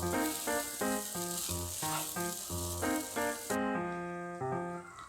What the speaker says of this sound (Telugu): రైస్ యాడ్ చేసేసుకున్నాక ఈ విధంగా బాగా కలుపుకుంటూ ఫ్రై చేసుకోవాలి.